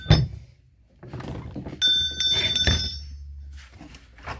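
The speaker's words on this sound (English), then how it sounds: "it's like a brass bell." An old brass bell, found among vintage auction items, rings briefly with a bright metallic tone that fades quickly, framed by nearby thunks of items being handled.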